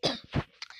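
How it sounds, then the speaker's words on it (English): A person with a cough gives a couple of quick, close, fairly soft coughs with a brief throat sound trailing after. "so I got a cough right now"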